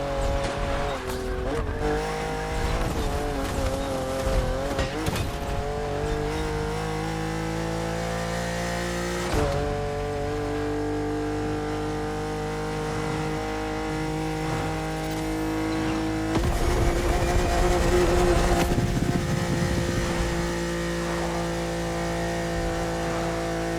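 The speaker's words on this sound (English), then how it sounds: "You just imagine how loud this car would be inside the cab." A rally car in the racing video game The Crew Motorfest, in a fast, muddy all-terrain event, its engine droning loud and continuous, rising and falling through gear changes, with tire squeals and skids over about twenty seconds.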